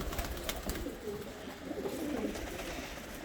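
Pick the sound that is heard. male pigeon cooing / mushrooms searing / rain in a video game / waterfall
male pigeon cooing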